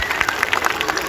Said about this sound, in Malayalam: എല്ലാരും കയ്യടി കയ്യടി കയ്യടി കയ്യടി